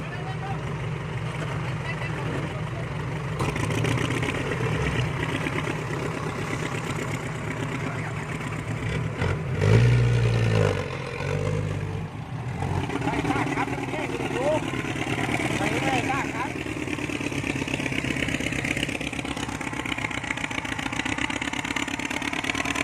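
A farm tractor works a muddy patch, its engine running steadily as a mid-pitched rumble with a louder surge near the middle. Voices can be heard over the engine at times.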